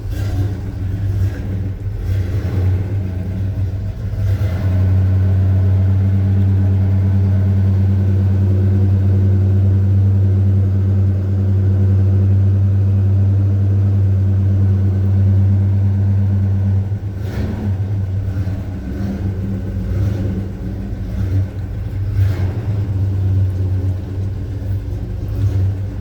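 A 1984 Chevy C10 pickup truck's engine idles after a cold start with a deep, steady rumble up close, briefly revving louder for a stretch before settling back to a rough idle.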